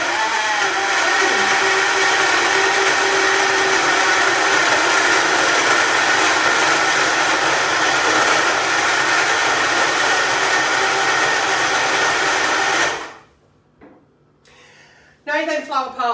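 A portable blender blends orange juice with a loud, steady motor whir that runs for about thirteen seconds, then cuts off into quiet with a few faint noises and brief voices at the end.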